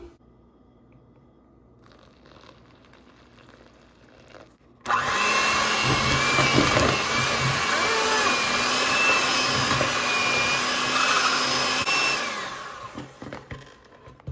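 An electric mixer whirs steadily for several seconds, blending doughnut batter after water and coffee are added, starting abruptly and running loud and continuous before tapering off near the end.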